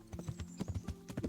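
A horse's hooves clip-clop in the medieval game Kingdom Come Deliverance, a steady quick trot of hoofbeats, close and clear without talk.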